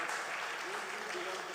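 Audience applause at a Brahmin community global meet, a dense steady wash of clapping throughout the short stretch, with a voice faintly audible underneath.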